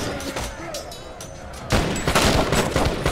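Gunfire crackles in a pirate ship battle in the game Tempest, with scattered shots giving way to a dense, loud volley of fusillade halfway through.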